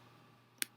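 A single sharp computer mouse click at about 0.6 s, heard while italic formatting is applied to text on screen, standing alone against a quiet background with no talk.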